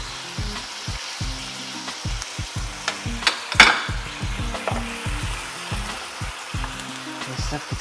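Salmon fillets frying in a hot pan give off a loud, continuous sizzle, with scraping and stirring noises as the fish is flipped, close up and steady throughout.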